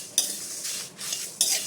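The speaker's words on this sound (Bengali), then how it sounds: "এইবার আমি এই 2 রকম সরিষার ভিতর দিয়ে দেবো। সরিষাটা বেশি ভাজা লাগবে না," Mustard seeds of two kinds and other spices being fried and stirred in a pan for a raw mango pickle, with light sizzling and short scraping clinks from a spoon, close by and alone without talk.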